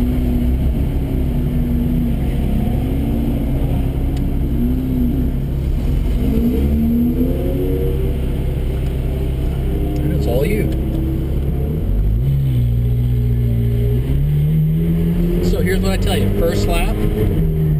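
A loud car engine drones steadily and revs up and down on a warm-up lap, with a voice talking over the engine noise.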